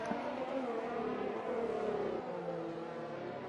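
F1 2020 race car in the game pulling out of the pits in Bahrain, its engine whining steadily with a slowly falling pitch, moderately loud and continuous, with no talk.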